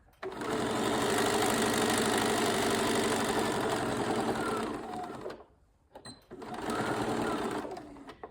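Close by, a sewing machine runs steadily along a zipper pouch lining, a loud continuous whir for about five seconds, then a brief stop and a second shorter run.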